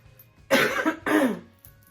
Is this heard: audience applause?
no